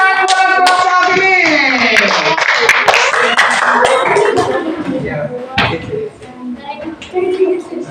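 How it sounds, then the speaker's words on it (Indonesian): A primary school class claps for a group of pupils, a brief burst of hand claps over children's voices and a teacher's talk, fading out toward the end. "Tepuk tangan buat kelompok ini."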